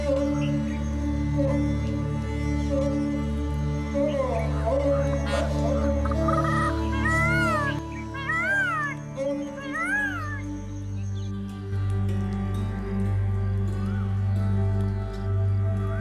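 A peacock calls near a village house in Satara on a morning, giving several loud, rising-and-falling wails in quick succession midway through, over a steady low background hum.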